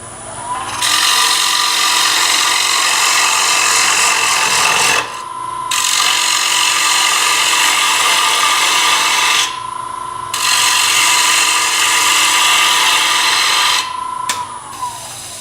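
A bowl gouge cuts a spinning wooden bowl on a lathe with a steady, loud rasping hiss across three long passes, each broken by a brief pause as the tool lifts away, plus a faint rubbing sound at the end.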